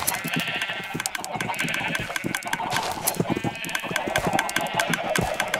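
Sheep bleat repeatedly in a video game, several overlapping calls close by amid busy clicking and game ambience, with talking mixed in.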